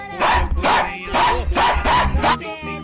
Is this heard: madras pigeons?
no